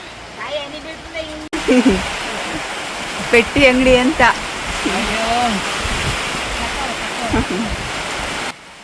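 Rain drums on the sheet roof of a village petty shop in a steady, broad wash of noise. A person speaks over it for most of the clip.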